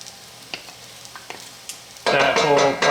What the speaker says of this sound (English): So now I'm going to add the tomato paste